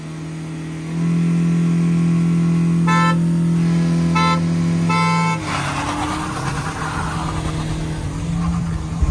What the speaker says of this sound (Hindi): आप हॉर्न बजाना इस बार